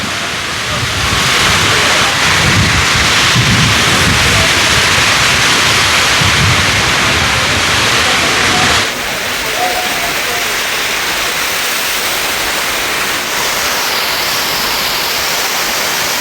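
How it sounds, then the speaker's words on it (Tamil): Heavy rain pours down at a busy outdoor cattle and horse market in the evening, a loud, steady broadband roar that drops to a lighter but continuous downpour partway through, with faint voices mixed underneath. "மழை பொழந்து எடுக்குது."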